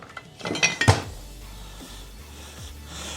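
A frying pan is handled on a home stovetop, giving a couple of close metallic clanks and knocks in quick succession, then quiet low kitchen hum.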